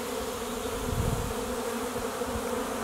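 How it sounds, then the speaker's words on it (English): Dense, continuous buzzing of a honey bee swarm surrounds the listener, a steady droning hum with no talking. "just in case you were ever wondering what it's like to stand inside a swarm of bees"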